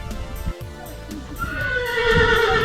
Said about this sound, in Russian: Очень невероятно красивый конь.